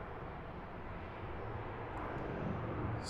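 An airliner goes around at Heathrow Airport at night, its engines a broad, steady distant roar that swells slightly toward the end, with no talk.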